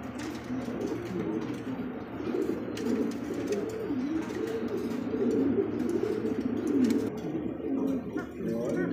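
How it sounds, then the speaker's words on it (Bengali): A pair of jumbo-size King pigeons, a male and a moulting female, coo continuously. The low, rolling coos repeat through steady background noise, close and moderately loud, with no clear talk. "জাম্বু সাইজের মধ্যে একজোড়া কিং কবুতর"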